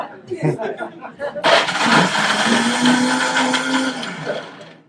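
A kitchen blender runs at high speed at a vegan festival cooking demonstration making gold milk and hemp energy balls, a loud continuous roar starting abruptly after talk and holding steady for several seconds.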